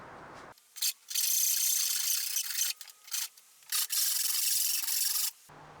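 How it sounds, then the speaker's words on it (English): Filing a rounded edge on a wooden trapezoidal bass case, heard as dry rasping strokes in several long bursts separated by short pauses, close and fairly loud with no talking. "we need to file an additional little round over here so that these things will fit snugly"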